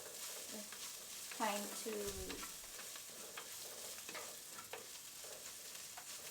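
Garlic and ginger frying in a pan give a steady, quiet sizzle with occasional stirring scrapes, while a voice speaks briefly over it.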